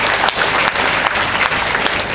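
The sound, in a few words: audience applause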